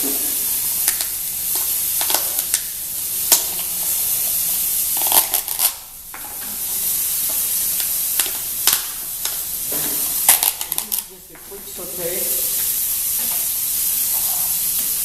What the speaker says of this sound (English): We'll saute the mushrooms.